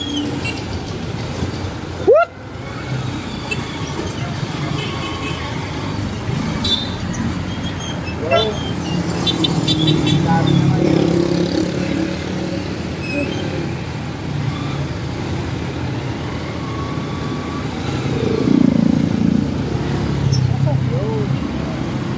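Road traffic on a national highway heard from a pedestrian crossing it: passing cars and heavier vehicles rumble by nearby, swelling and fading in turn, with a sharp squeal early on and people talking throughout.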